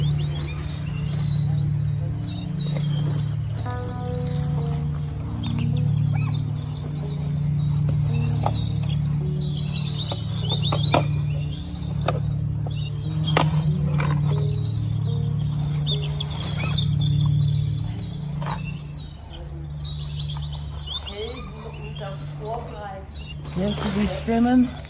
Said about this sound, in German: Hörst du die Stimmen der Vögel?